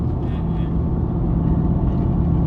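A 1976 Chevy Vega GT engine drones close by, low and continuous, holding a sustained revving hum around 3,000 to 4,500 rpm throughout with no breaks.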